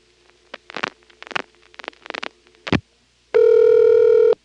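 Telephone line on an NX1-E crossbar exchange in Vanceboro, North Carolina, March 1977: a run of short clicking pulse bursts in irregular groups, then a steady, loud, tonal buzz lasting about a second, with no talk.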